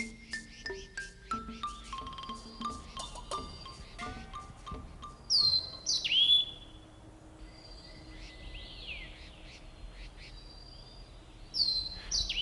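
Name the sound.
Taiwan laughing thrush calls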